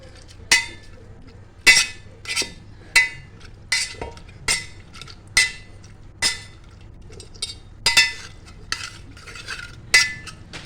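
Cooked vegetables for pav bhaji being mashed in a pot: a steady series of about a dozen sharp metallic knocks and clinks, roughly one per second, close and clear against a quiet background.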